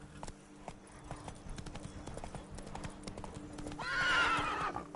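Horse hooves clip-clopping at a gallop in The Witcher 3: Blood and Wine, a steady rhythmic patter with a clear whinny near the end and faint speech underneath.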